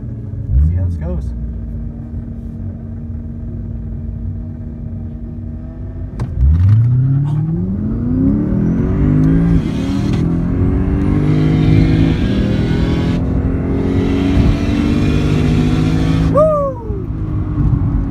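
A racing RX-7 idles at a drag strip, then roars as it accelerates hard through rising gears, loud and close, with faint talk early on.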